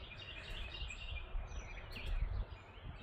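Birds chirp and sing in the distance on a cold morning, light repeated calls over a soft outdoor background hum.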